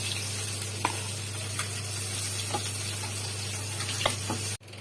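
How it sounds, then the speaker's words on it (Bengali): Fish frying in a pan, a steady close sizzle with occasional spatula taps and a low constant hum underneath, no voices. "মাছগুলো সব ভাজা হয়ে গেছে"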